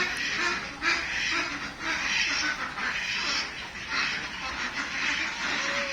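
Domestic ducks quack repeatedly in a steady, fairly close chorus of overlapping calls, with no talk.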